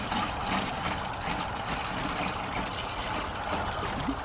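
Collected rainwater pours steadily from a tank into a container for topping up to about five litres in a garden, a continuous close splashing trickle with no talk.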